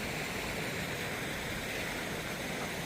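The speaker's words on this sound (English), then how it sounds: "I guess a little creek that runs into the river." A small creek runs into a river along the Appalachian Trail, making a steady, dense rushing of water that stays even and unbroken throughout.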